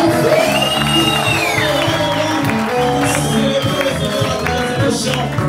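A church congregation cheering and acclaiming the king during worship, with loud overlapping shouts and whoops, a sustained high singing voice above, and strong continuous crowd noise close by.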